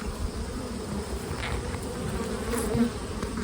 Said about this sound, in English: Certainly bees in it, but I can tell there's not much going on in it.